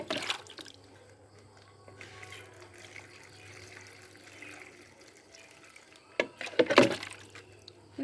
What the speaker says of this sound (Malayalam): ഇങ്ങനെ പയ്യെ നമ്മൾ ഇതിനകത്തോട്ട് വെള്ളം ഒഴിക്കണം.